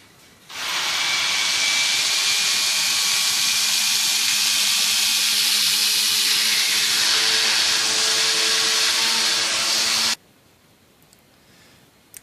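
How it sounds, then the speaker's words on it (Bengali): An electric blender blends cooked chana dal with a little water: after a short quiet start it kicks into a loud, steady, high whirring roar that holds for about nine seconds and then cuts off abruptly. "এখন আমি এটা ব্লেন্ডার করে নিচ্ছি।"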